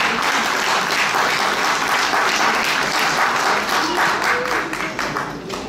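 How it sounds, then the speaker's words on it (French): A live quiz-show audience breaks into loud, sustained applause, dense clapping that fills the room and tapers slightly toward the end. "Applaudissez-vous, s'il vous plaît."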